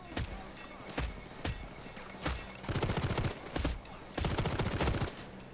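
Gunfire in the heist video game Payday 2 starts as a few scattered single shots, then breaks into two sustained rattling bursts, all fairly quiet.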